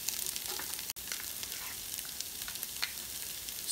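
Ground beef and tomato paste cooking in a pan give a steady, moderately loud sizzle with light crackling and a brief dropout near the start, without voices.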